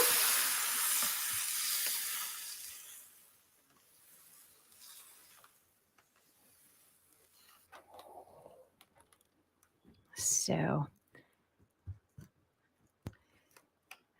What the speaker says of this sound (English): Let me steam the rest of this. I'm going to make noise.